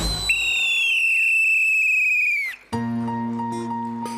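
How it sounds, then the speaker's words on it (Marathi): A long, sharp, shrill traffic police whistle blast holds steady for about two seconds and then cuts off. Upbeat music starts right after. "शिट्टी वाजली, वाहतूक थांबली."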